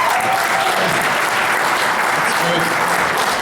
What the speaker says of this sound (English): Clap if you're married.